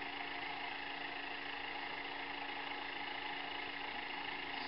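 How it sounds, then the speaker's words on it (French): A Zetor tractor engine in a farming video game mod idles steadily while warming up, a constant, even drone with no variation. "si vous le laissez chauffer un peu, bon c'est un tracteur qui chauffe"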